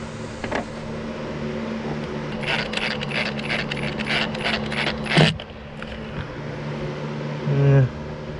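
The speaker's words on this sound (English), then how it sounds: "I just want to get it tacked in place with a drywall screw" A drywall screw driven to tack wood in place while repairing a wooden Tahiti gaff cutter: a few clacks, then a steady run of rapid mechanical ratcheting pulses ending in a sharp stop, followed by a brief whirring rattle.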